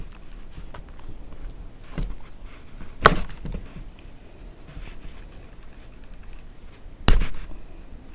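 Two sharp pops stand out from faint scraping and handling noise, one near the middle and another near the end, with no talking.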